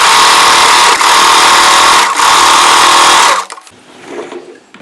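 A sewing machine runs loud and close, stitching layered frill fabric for a chudi suit in a continuous fast whir with one brief stutter, then stops and leaves quiet handling noise.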